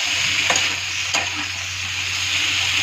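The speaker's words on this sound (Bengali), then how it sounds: "টমেটো, বেগুন, শিমলা মির্চটা নিয়ে একসাথে ভাজা ভাজা করবো" Tomato, eggplant and capsicum fry together in a pan, giving a steady close sizzle and hiss with a couple of sharp clicks from stirring, and no voices.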